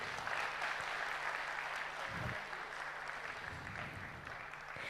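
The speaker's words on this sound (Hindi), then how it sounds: "हम ऐसे विशेष वक्ता के लिए फिर से एक जोरदार तालियों के साथ में" An audience at a Brahma Kumaris sports wing talk gives loud applause for a special speaker, a sustained dense clapping that stays even throughout.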